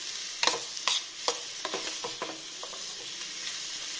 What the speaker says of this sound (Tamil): கருவேப்பிலை இது மூணையும் போட்டு நல்லா வதக்கி எடுத்துக்கோங்க